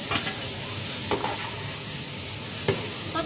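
Boiled chicken livers and gizzards stirred in a hot pan, a soft continuous sizzle with a few distinct scraping stirs of the utensil, close and quiet, with no talking.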